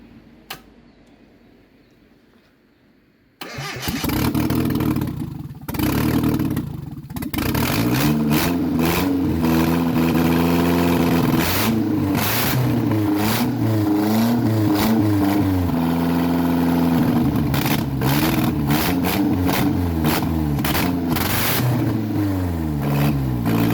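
A turbocharged Nissan D21 Hardbody pickup with a KA24E-T engine cranks after a quiet moment, fires up loud and close, then revs repeatedly in surging pulses over a rough, steady idle.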